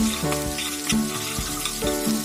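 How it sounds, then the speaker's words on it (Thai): Curry paste for a stir-fried fish dish sizzles and fries steadily in a hot pan, with a few stirring scrapes, close and fairly loud, with no voices. "เอาลงมาผัดให้มันหอมครับพี่น้อง"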